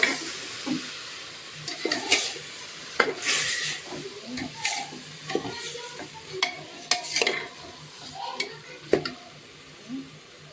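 Wet, gritty scraping and swishing as washed rice is stirred around a pressure cooker pot for pulao, in irregular bursts with occasional clinks, close by.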